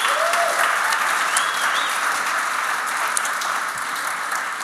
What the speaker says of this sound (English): Just keep that applause going.